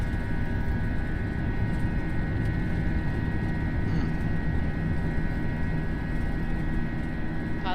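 Steady, loud roar of A320-232 jet engines during a takeoff roll in a flight simulator game, a continuous broadband rumble with faint tonal hum, uninterrupted throughout with no talk.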